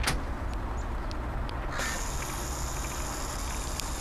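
Crow calling outdoors: a few short caws stand out over steady broadband background noise, with brief sharp bursts scattered through the first half and a faint high tone later.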